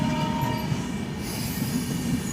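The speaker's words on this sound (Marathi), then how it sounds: "बघा ट्रेन चालली आहे" A train rolls past close by, a steady heavy rumble of wagons on rails with faint high wheel squeal over it, and no voices heard.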